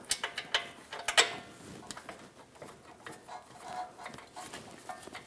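Metal clicks and light mechanical ticking as a ratchet wrench threads rear brake caliper bracket bolts on a 2014-2023 Jeep Cherokee, a quick burst of close clicks early on, then quieter intermittent tool and handling sounds.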